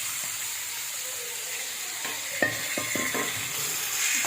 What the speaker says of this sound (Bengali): সব চিংড়ি মাছগুলোকে আমি এভাবে ভেজে নেব।